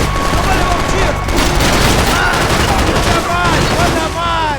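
Rapid bursts of gunfire in the video game Max Payne 3, dense and loud throughout a favela firefight, with people shouting over the shots.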